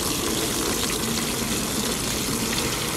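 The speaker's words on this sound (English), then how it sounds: "we'll use this to get a bunch of water to put in the cooler" Water from a bucket pours into a cooler on the Santa Cruz Wharf, making a loud, continuous gushing splash close by, with no voices.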